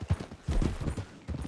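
Horse hooves clip-clopping in Red Dead Redemption 2, a quick rhythmic series of close, fairly loud hoof strikes at a steady riding pace, with no talk during the clip.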